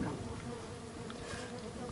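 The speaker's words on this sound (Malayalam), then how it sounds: "ഇവിടെ മൊത്തത്തിൽ ഇപ്പൊ ഈച്ച പറന്നിട്ടുണ്ട്" Stingless bees swarm around an opened hive during a honey harvest in Kerala, making a dense, continuous close-up buzz with no voices.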